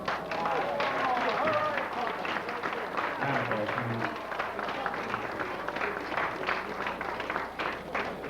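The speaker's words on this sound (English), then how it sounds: "I would like a big round of applause for Carmen Carrozza" Guests at a winery reunion applauding Carmen Carrozza, a moderate round of clapping from a gathered crowd, fairly soft and continuous with some voices mixed in.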